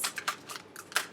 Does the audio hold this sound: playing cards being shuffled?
yes